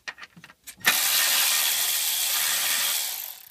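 A ratchet works on a bracket on a Ford 6.0 Powerstroke diesel engine: a few short clicks, then a loud, steady hiss-like rasp that holds for several seconds, close by with no talk.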